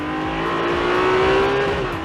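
A Ferrari 296 GTB (2021) engine revs steadily upward, loud and close, the pitch climbing and then easing slightly near the end.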